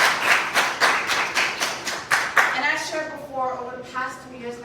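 Scattered hand claps at a live-streamed summit event ring out in a steady rhythm for a couple of seconds, a fairly close, small group, before a voice begins speaking over the fading claps.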